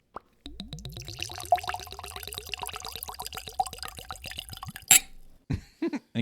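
Skellig Irish whiskey glugs from a small taster bottle in a steady rhythmic pour lasting several seconds, close and clear, ending with a short clink and brief sounds afterward.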